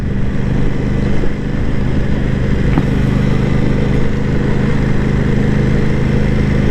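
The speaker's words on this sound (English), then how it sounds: "Bike's very smooth. This sort of speed, it's happy to do it. Low speeds, low RPM," Aprilia Tuono 660 Factory motorcycle cruising at low RPM, under 3000, a steady smooth engine drone with a constant low hum, close and loud throughout with no talk.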